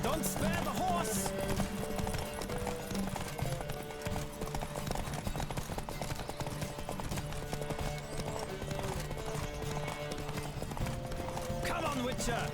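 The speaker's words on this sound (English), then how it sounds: "Don't spare the horse!" Galloping horse hooves pound rhythmically during a horse race in The Witcher 3 game, a continuous fast clip-clop under music and occasional shouted voices.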